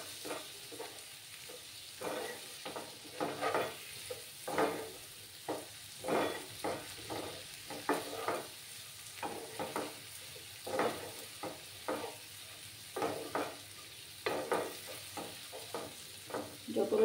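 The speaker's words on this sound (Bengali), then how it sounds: "দিয়ে ভালো করে কষিয়ে নেব" Spices and turmeric powder being stirred and fried in a pan, with a steady sizzle under repeated scraping strokes of a spatula at an even rhythm, close and fairly quiet.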